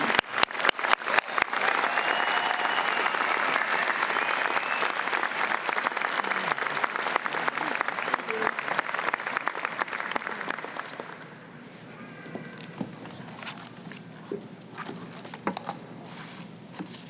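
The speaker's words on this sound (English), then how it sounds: "Give yourself a round of applause." Graduating class of 2019 applauds at an Algonquin College convocation for the School of Business, a dense, loud burst of clapping that starts with a few sharp claps, holds for about ten seconds, then thins to scattered claps.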